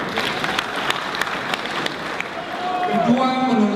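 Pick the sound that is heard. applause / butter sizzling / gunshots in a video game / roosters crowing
applause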